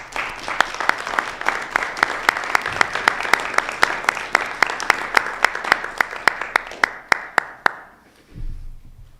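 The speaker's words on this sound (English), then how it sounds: "please join me in giving a round of applause to the entire staff and faculty of our Washington Township schools." An audience at a Washington Township schools event applauds the school staff and faculty. Steady clapping from a crowd of many hands carries on for several seconds, then thins to a few separate claps and stops.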